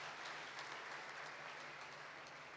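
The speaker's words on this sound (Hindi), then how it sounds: "एक जोरदार तालियों के साथ" A large audience at a college valedictory function claps in a dense, uniform wash that holds steady at a moderate level for the whole stretch, with no voices on top.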